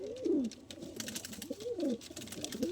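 Madrasi pigeons in a loft in Kolkata give repeated low throaty coos in close succession, fairly near, over a soft rustling background.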